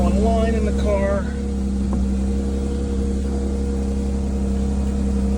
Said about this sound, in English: Idle's still revving a little bit high, so we haven't fallen off fast idle yet.